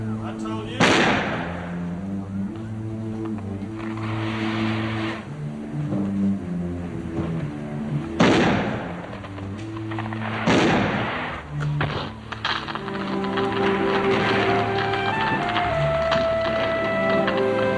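Fireworks explode in a film scene as several sharp, loud bangs spaced seconds apart, heard over music and voices talking.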